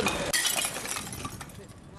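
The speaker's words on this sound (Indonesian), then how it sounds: "pemusnahan puluhan ribu botol miras ini dilakukan dengan cara melindasnya menggunakan alat berat" Tens of thousands of illegal imported glass liquor bottles are crushed under heavy equipment at a warehouse complex in Margomulyo, Surabaya, a loud dense crackle of shattering and clinking glass under a voice.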